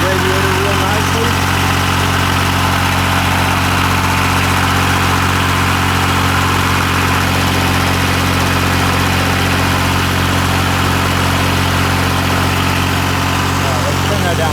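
A 1988 Yanmar tractor engine, restarted after six years sitting, idles loud and close with a steady, even low rumble that runs unbroken throughout.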